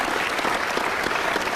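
A crowd applauds for Pak Jokowi at an Indonesian public gathering, a dense, steady wash of many hands clapping at close range, loud and continuous for the whole stretch with no talk over it.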